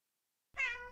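A cat meows once in the video game 100 Cats Lost In China, a single clear, fairly loud mew that starts after a brief silence and sustains with a slightly falling pitch.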